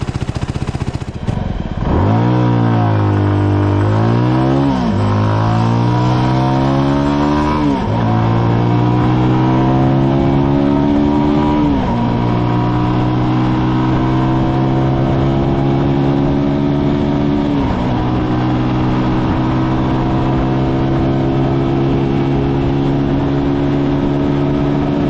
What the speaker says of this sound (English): This lovely inox end of the exhaust is making a very nice sound.